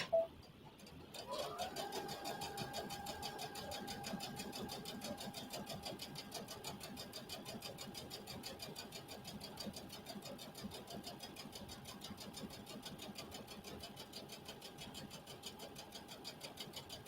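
Sewing machine stitching Christmas mug koozies, a steady, fast mechanical whir that starts after a brief pause and runs on evenly at moderate volume, with a rapid regular ticking of the needle throughout.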